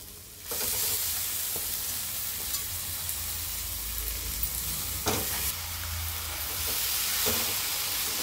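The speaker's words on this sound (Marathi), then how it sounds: "आता आपण हे दोडका ठेसलेला आहे तो टाकून घेऊ" Crushed ridge gourd fries in a hot pan with a loud, continuous close-up sizzle and hiss, broken by a couple of sharp stirring scrapes, with no talking.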